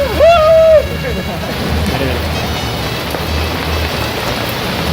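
Winter rain in Colombia falling steadily on surfaces, a dense, loud hiss that continues throughout, briefly topped at the start by a sharp whistle-like tone, with people talking under it.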